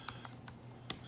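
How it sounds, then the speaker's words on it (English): A computer keyboard clicks as a message is typed, with a handful of sparse, soft keystrokes at an uneven pace, close by and quiet, with no talking. "Just typing a message here to somebody"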